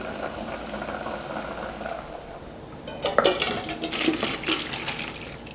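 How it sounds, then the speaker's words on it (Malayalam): Pasta water splashes and pours noisily into a metal strainer for a few seconds, with faint clinks of a pot, after a quieter stretch of background kitchen noise. "ഇനി നമുക്കിത് വെള്ളം സ്ട്രെയിൻ ചെയ്ത്"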